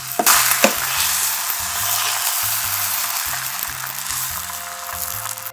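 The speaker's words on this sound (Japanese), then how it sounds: "フライパンがあったかくなってたら 卵液を流し入れてあげて、手早くね全体に広げてあげてください" Beaten egg poured into a hot oiled frying pan for thin Japanese omelette strips sizzles loudly and steadily, with a couple of crisp pops at the start and a faint rhythmic music bed underneath.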